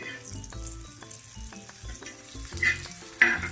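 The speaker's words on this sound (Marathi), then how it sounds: "पनीर मैद्यात कोट करून त्या फ्राय करायला ठेवलं आहे आता फ्राय करते मी गॅस मोठा करते" Flour-coated paneer frying in hot oil over a high gas flame gives a steady sizzle with a few sharper spits and pops near the end.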